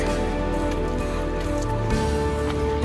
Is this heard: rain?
yes